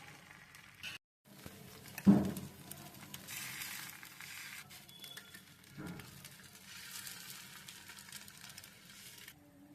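Egg rava dosa batter poured onto a hot pan gives a soft, steady sizzle and patter. It is fairly quiet, with a brief sharper burst near the start and no talking.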